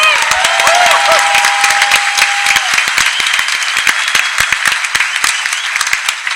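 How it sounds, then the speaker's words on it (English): A convention-panel crowd at PAX Prime applauds steadily throughout, dense clapping from many hands with a few faint cheers mixed in, loud and close. "Let's all have a round of applause for Graham."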